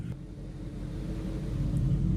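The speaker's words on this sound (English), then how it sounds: "Okay, got the truck running." A 1975 Chevrolet C10 pickup truck idles with its engine running, giving a steady low rumble that swells slightly over a couple of seconds, with no voices.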